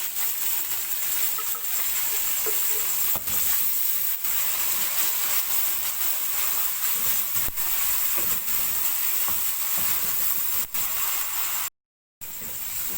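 Ground onion and green chillies sizzle steadily in a pan with browned ginger and garlic, a continuous faint hiss with occasional small crackles and no talking.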